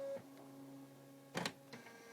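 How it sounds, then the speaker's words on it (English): A Bernina embroidery machine shifts its hoop into position: a faint, steady electric hum with a brief burst of mechanical whirring and clicking partway through, then a softer click. "The hoop moves, and then the machine can tell what size hoop is in it"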